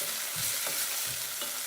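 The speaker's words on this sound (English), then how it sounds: "now I'm going to just give the onions another stir through" Onions stirred and frying in a pan for tadka dhal give a steady sizzle with soft scraping strokes of the spoon repeating every half second or so, close and moderately quiet.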